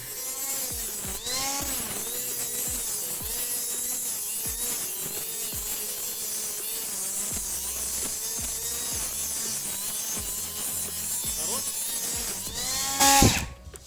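A mini angle grinder bought from AliExpress runs steadily while sharpening, a close, continuous whining buzz with rapid rasping pulses that swells into a louder burst near the end.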